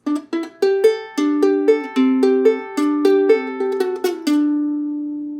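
Acoustic guitar playing a song, thumb-strummed chords and picked notes in a steady bright rhythm, close and clear, ringing out on a final sustained chord with no talking.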